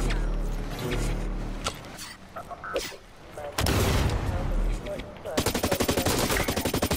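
A long range gun fires in the shooter game Blacklight Retribution, first scattered distant shots, then a loud rapid stream of evenly spaced bursts at the end, with a voice speaking earlier in the clip.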